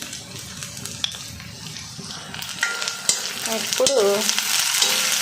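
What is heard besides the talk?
food frying and being stirred in an iron kadai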